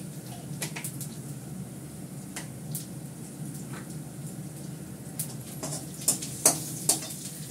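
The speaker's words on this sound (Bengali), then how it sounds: "আমি এর মধ্যে ফোড়ন দেবো জিরে, জিরে ফোড়ন দিলাম" Cumin seeds crackle and sizzle in hot oil as a tempering, a steady close frying hiss with light stirring and a few sharper clicks toward the end, no voices.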